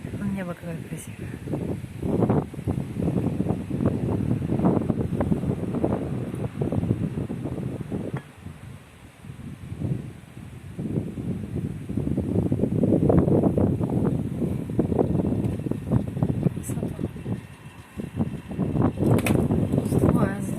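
Night wind blows across a handheld phone's microphone outside, making a steady, rough roar that swells and dips in gusts, briefly easing partway through before surging back strong.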